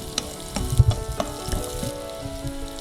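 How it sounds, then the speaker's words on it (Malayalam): Chopped coconut pieces and black sesame seeds roast in hot ghee, a soft steady sizzle with a few light stirring scrapes near the pan, no voices. "തേങ്ങ ഒന്ന് ബ്രൗൺ കളർ വരെ നമുക്കൊന്ന് വറുത്തെടുക്കാം"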